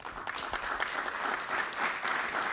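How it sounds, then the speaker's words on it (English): An audience at a think tank session claps together in dense, continuous applause that sounds moderately distant and slightly softer than close-up, with scattered individual claps standing out from the wash. "can we clap once?"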